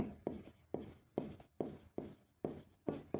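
A pen strokes across paper in a steady rhythm of about seven evenly spaced scratchy sweeps, close and quiet, while final accounts of a co-operative society are written out by hand.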